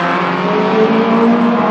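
A race car engine roars steadily past on the track during the finals of a racing show, loud and sustained with a continuous drone and no voices over it.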